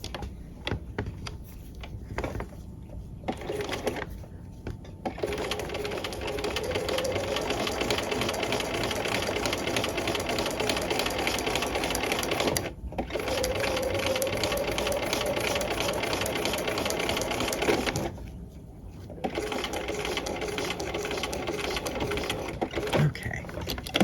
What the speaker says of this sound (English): we're going to go over that row of stitching one last time. This is a standard straight stitch